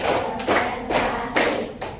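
A class of students claps together on a teacher's count in a classroom, with a steady series of five loud group claps evenly spaced about half a second apart.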